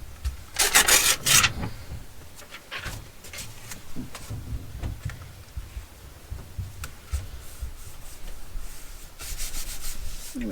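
Glued paper is rubbed and pressed down onto a junk journal page in short, dry scuffing strokes, close and soft, with a couple of louder bursts early on.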